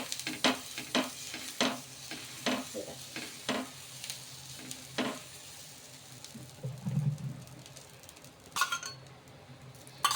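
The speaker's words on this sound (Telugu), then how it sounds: "ఇప్పుడు ఒకటి నార్మల్ దోశ అయితే వేసి చూపిస్తాను" Moong dal dosa (pesarattu) batter spread on a hot pan, stirred and scraped with light clinks of a ladle against the pan, followed by a soft sizzle of frying and later some oil sizzling, all close and without talk.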